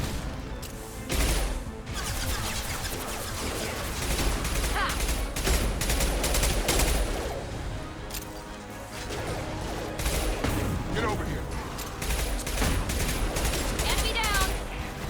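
Gunfire in a Mass Effect 2 firefight, sustained and loud, with dense bursts of automatic shots and impacts rolling on for the whole stretch, a voice talking over it at times.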